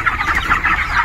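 Poultry chickens on a farm cluck busily together, a close, continuous chatter of overlapping short calls.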